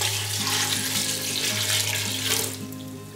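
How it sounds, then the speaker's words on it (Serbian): Tap water runs steadily into a container while homemade orange juice is being made, a continuous close splashing and rushing that fades a little toward the end. "Zatim dodamo vodu"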